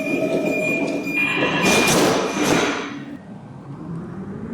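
A metro train in the Metro Simulator 4 video game pulls away, its rumble swelling with a bright screeching, hissing surge of wheel and motor noise before fading into a lower, steady rolling drone.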